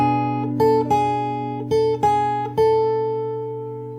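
Fingerstyle acoustic guitar plays the chord and riff of a song, with a low bass note ringing under plucked notes that rock back and forth between two pitches, each pluck decaying cleanly in a quiet room.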